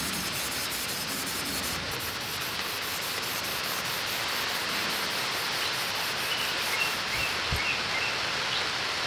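A planer blade is sharpened by hand on a whetstone, a steady unbroken scraping rub running across the whole stretch, fairly quiet and close, with no voices.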